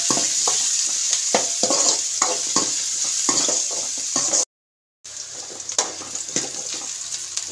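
Onions frying and sizzling in a pan with a pinch of turmeric, steady crackle broken by repeated scraping stirs, close and fairly loud, with a brief cut to silence midway.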